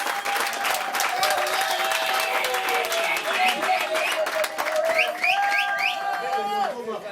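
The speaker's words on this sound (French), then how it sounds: "On peut acclamer, hein?" A crowd at a political victory celebration applauds and cheers continuously, dense clapping mixed with shouting voices and a few whistles, loud and sustained throughout.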